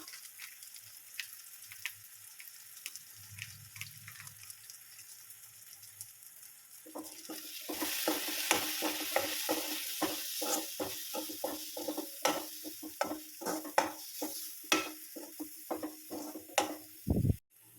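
Ground fennel, cumin and garam masala powders fry in a pan for a sausage roast. A quiet stretch gives way to a rising close sizzle with repeated scraping stirs and clatter.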